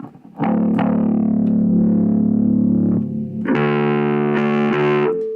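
Bass guitar played through a small Laney Mini-Bass-NX combo amp with gain raised, tone cut and tilt boosted, giving a fuzzy, distorted, bright tone; sustained notes ring out loud and close, then shift to a higher, brighter chord.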